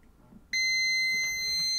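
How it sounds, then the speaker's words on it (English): A multimeter on continuity mode, probing a pad and via on a Commodore 64 circuit board, gives a single steady high-pitched beep that starts abruptly after a brief quiet moment and holds loud to the end. "Let me just check that with continuity"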